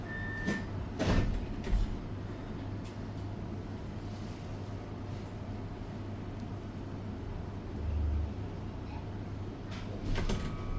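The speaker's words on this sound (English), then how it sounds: "Doors closing." Canberra light rail tram doors sliding shut, a couple of brief thumps and rattles over a steady low cabin hum with faint background noise, no talk.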